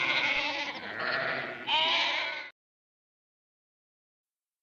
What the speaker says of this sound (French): je suis un bon chasseur, et je peux te fournir des moutons, beaucoup de moutons